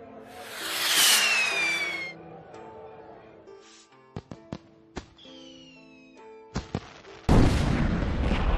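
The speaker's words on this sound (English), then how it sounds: "The force of the explosion sent Mushu and Kriki flying through the air." A cartoon explosion effect from the Disney Mulan story, where a rocket is fired at Shan Yu on a roof: a whistling fuse and descending whines, scattered sharp bangs, then a loud burst of rushing noise.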